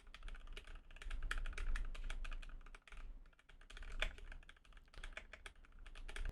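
Rapid typing on a mechanical keyboard, soft muted clicks in a quick irregular rhythm with brief pauses, heard close.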